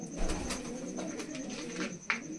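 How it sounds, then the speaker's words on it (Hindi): Soft, low cooing from a Malwai pigeon, close by, in a short rhythmic series with a few faint chirps and background hum. "देखो भाई, कितना प्यारा कबूतर है"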